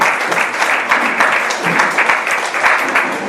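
Congregation applause at a Spanish-language church service, dense steady clapping from many hands filling the whole moment.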